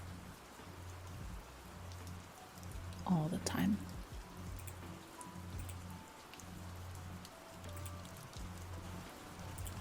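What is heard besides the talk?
rain falling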